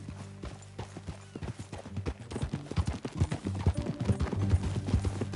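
Horse hooves clip-clopping at a gallop in Red Dead Redemption 2, a steady rhythmic beat building from light to louder and closer, with galloping thuds and no talk.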